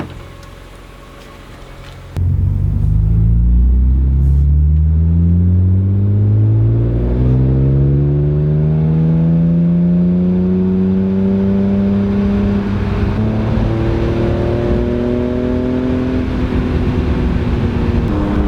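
A BMW E46 M3 engine idles, then roars to life and revs repeatedly, rising and falling in pitch as it drives, loud and close with no talking, no rattles from its newly fitted rear diffuser.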